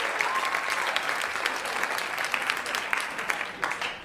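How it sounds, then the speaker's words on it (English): A comedy club audience claps steadily, dense applause filling the whole stretch with some scattered voices mixed in. "You can clap."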